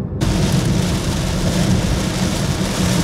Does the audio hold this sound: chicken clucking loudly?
no